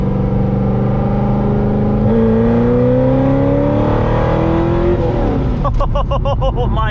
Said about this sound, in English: We're gonna do a third gear pull at like 50-ish, and we'll see how it goes.